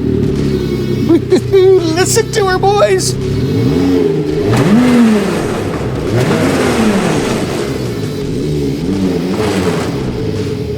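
A 2026 Ski-Doo X RS 900 ACE Turbo R snowmobile with a turbocharged engine revs repeatedly, rising and falling throttle blips close by and loud, with someone speaking briefly over it.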